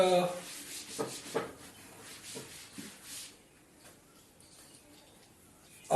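A board eraser rubs across a classroom board during a physics lesson: a few brisk scrubbing strokes in the first half, fairly soft, then near quiet with one last scrape at the end.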